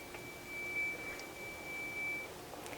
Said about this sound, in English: that dinging there just lets you know that it's completely full